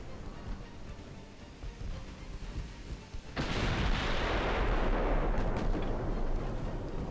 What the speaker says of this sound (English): our 4-inch and 3-inch guns are just hitting it.